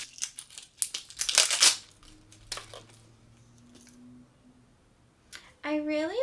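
Plastic wrapping around Bath & Body Works hand soap crinkles and rustles in several close, quick bursts during unboxing, then fades into quiet before a voice starts speaking at the end.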